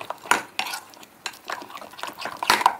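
A spoon stirs sweet idli batter flavoured with vanilla essence in a metal vessel, making irregular scraping and clinking strokes that come in close, uneven bursts.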